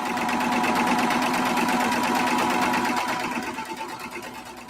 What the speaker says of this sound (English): you're going to start at the bottom of one leg and then sew up to the center and down the other leg